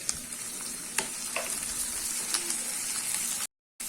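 Vegetables, capsicum and a small tomato with a pinch of turmeric sizzle in a pan while being stirred for aval upma, a steady close frying hiss broken by scraping stirs and a brief dropout near the end.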